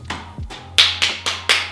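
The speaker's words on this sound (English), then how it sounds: "Just a round of applause for myself." One person claps their hands in self-applause, about five sharp, close claps in a loose, slightly uneven rhythm, with no talking.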